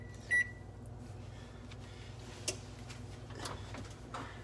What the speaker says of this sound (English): There we go, timer.